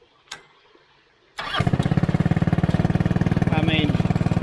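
A homemade trike engine cranks and fires into life after a short pause, then settles into a loud, rapid, even idle close by.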